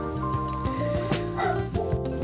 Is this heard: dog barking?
yes